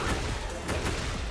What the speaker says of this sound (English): We got the wall explosion here